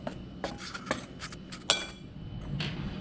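Flour, salt and baking soda stirred lightly together in a bowl, giving scattered clinks of utensil against bowl at an uneven rhythm over quiet background, with no talking.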